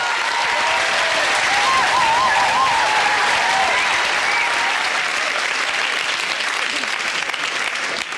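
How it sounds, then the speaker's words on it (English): Warm, sustained applause and a few cheers from a studio audience on a live comedy show, greeting an act as it takes the stage, with a bright voice-like whoop rising above the clapping early on. "Thank you for your applause"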